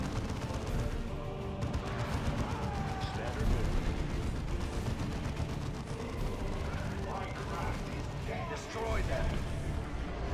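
Rocket launcher fire in the Dawn of War II strategy game rumbles among a dense, continuous battle of booming blasts and gunfire, loud and busy throughout, with voices talking over it.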